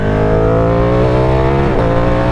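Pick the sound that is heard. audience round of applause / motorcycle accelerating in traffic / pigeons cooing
motorcycle accelerating in traffic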